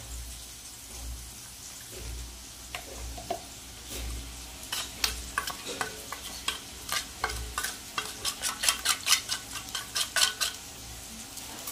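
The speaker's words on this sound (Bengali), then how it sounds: "আলু কিন্তু হালকা লাল লাল ভাজা হয়ে গেছে" Potatoes fry in a pan under a soft, continuous sizzle while a utensil stirs and scrapes against the metal, the clacks growing quicker and more frequent, close by.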